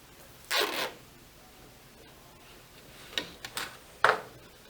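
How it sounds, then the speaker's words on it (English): Tape pulled and torn off a roll to secure a foam-filled bowl container for a flower arrangement: one long rasping pull, then a few short quick strips, close and alone with no talk. "And then tape your container."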